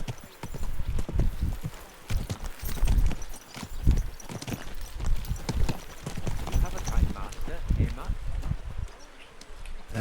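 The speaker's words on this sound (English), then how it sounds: "Easy, good horse." Horse hooves clip-clop steadily on the ground in the medieval game Kingdom Come: Deliverance 2, a close, rhythmic trot of repeated thuds with someone speaking over it.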